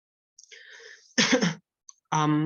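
A person coughs a couple of times nearby during a webinar talk, short raspy bursts following a soft throat sound, in an otherwise quiet room.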